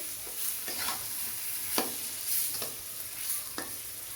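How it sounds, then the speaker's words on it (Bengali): Fish in a frying spice paste is stirred in a pan, a soft sizzle under repeated scraping strokes of the spoon at an irregular rhythm, close and moderately quiet. "এখন একটু ভালো করে নেড়ে দিয়ে দিতে হবে।"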